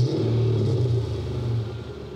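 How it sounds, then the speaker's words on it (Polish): Mercedes 124 fitted with a 600+ hp AMG engine accelerating, a loud, close, deep rumbling engine note held steady throughout with no voices. "żaden Mercedes 124 nie ma takiego silnika i takiego dźwięku"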